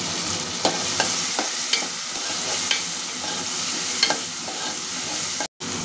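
Green chillies are stirred in hot oil in a pan for Telugu pumpkin curry, a soft steady sizzle with light spatula taps every second or so.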